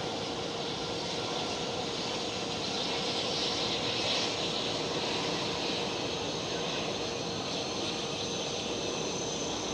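A LOT Polish Airlines Embraer E190-E2 jet passes at Amsterdam Schiphol, giving a steady, broad roar of engine noise that holds evenly throughout with no speech.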